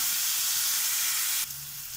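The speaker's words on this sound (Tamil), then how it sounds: "வெங்காயம் வதங்க ஒரு 2 நிமிஷம் ஆகும் நல்லா வதங்கிற வெங்காயம் அது ஒரு லைட் ஸ்வீட்னஸ் கொடுக்கும்" Onions sautéing in a pan for mushroom biryani, giving a steady bright sizzle and hiss that drops a little in level near the end.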